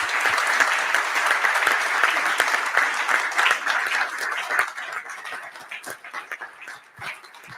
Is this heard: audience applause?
yes